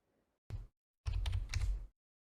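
Keystrokes on a computer keyboard: one short burst, a pause, then a longer run of rapid clicking, close and fairly loud with no voices.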